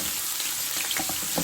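Curry saag made with lassi browning in a frying pan, a soft steady sizzle with faint scattered pops and crackles, brief and fairly quiet.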